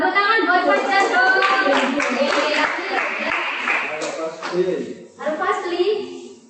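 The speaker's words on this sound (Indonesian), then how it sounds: "Nah, tepuk tangan buat Faisal." Students in an Arabic class clap for a classmate, a burst of many hands early on that thins out, with a teacher talking over and after it in a small room.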